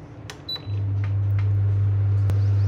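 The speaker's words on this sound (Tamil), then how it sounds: "இப்போ அடுப்பை ஆன் பண்ணிக்கலாம்." A kitchen stove switched on: a couple of small clicks, then a steady low hum that starts abruptly and holds, with a sharp tick near the end.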